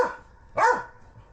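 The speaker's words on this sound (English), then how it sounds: "the neighbors can hear the dogs bark" Dogs barking outdoors at a lakeside home, two short barks about half a second apart, the second louder, nearby and with no talk over them.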